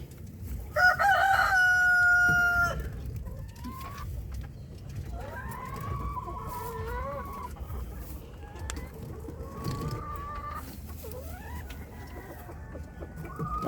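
A rooster crows loudly near the start, followed by scattered clucks and calls from several Dekalb Brown laying hens nearby on a small farm, with low background noise throughout.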